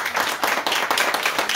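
An audience at a literary talk on crime fiction breaks into applause, with dense, loud clapping held steady from start to finish.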